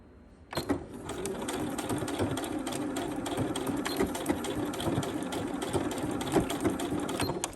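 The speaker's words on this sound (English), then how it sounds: "all we're gonna do now is just top stitch this in place" A sewing machine top stitches a zipper onto a swimsuit, running in one steady, close, continuous buzz of rapid needle strokes after a brief quiet start.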